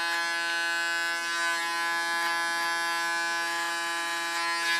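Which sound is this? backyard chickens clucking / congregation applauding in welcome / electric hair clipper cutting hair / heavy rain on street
electric hair clipper cutting hair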